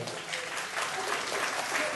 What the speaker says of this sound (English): can we give him a round of applause for being a community leader?